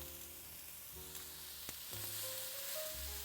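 Marinated tofu kabobs sizzle quietly on a carbon steel griddle, a soft steady frying hiss with a few clinks and shifts of the skewers.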